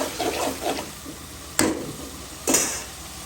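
Mustard paste with onion and tomato sautéing in a pan for hilsa, soft sizzling with stirring, broken by two sharp clinks of the spoon against the pan, no talking.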